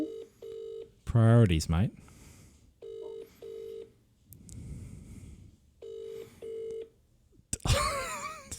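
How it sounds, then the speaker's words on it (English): Series of telephone keypad DTMF tones in short spaced bursts as a number is dialed, with someone talking briefly between them and a louder burst of noise at the end. "Still dialing."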